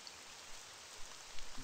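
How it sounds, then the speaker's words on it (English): Rain falls in a video game as a faint, steady hiss with a few soft patters, with no speech. "And now it's raining, brilliant."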